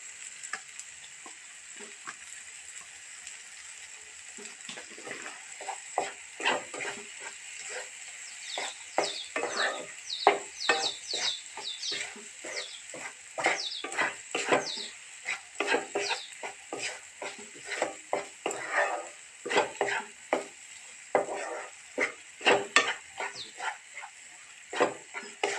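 Spice masala roasts in a pan for a kharé vangé eggplant dish, with a continuous high sizzle under frequent spoon scrapes and clinks of irregular rhythm, close up and fairly quiet.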